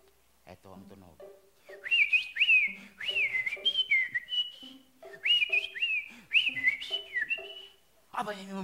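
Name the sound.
contestant whistling an imitation of a bird call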